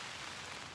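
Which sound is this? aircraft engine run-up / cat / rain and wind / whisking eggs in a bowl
rain and wind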